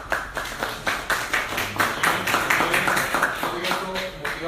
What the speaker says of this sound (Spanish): pero los aplausos los dejamos para el final